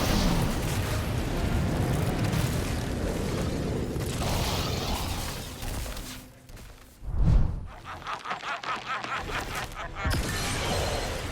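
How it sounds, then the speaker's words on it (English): A large boss, Zoark, explodes in a Destiny 2 raid: a dense, roaring rumble of battle noise leads into a booming blast with a whooshing, crackling tail and scattered debris-like pops. "watch him explode"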